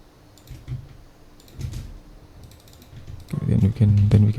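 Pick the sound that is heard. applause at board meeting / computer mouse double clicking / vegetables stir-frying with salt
computer mouse double clicking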